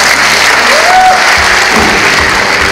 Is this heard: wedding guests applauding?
yes